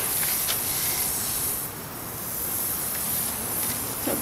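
Steady hissing mist from a Solo pump sprayer, an even atomized spray held close for about four seconds, slightly swelling and easing in the middle, with no talking.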